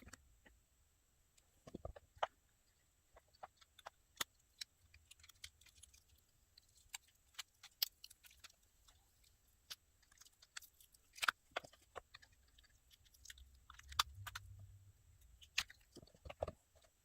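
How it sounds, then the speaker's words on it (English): Glow-in-the-dark pieces being demolded, producing faint, irregular soft clicks, peels and taps scattered close by in a quiet room, with no talking. "listen to me demold the pieces"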